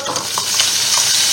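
Onion added to a hot frying pan after veal paupiettes were browned, giving a loud, steady, close sizzle with faint stirring ticks, no voices.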